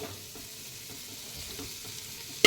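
Vegetables for fried rice sizzle steadily in a pan, a close, soft hiss running throughout with faint stirring scrapes, then a sharp metallic clank at the very end.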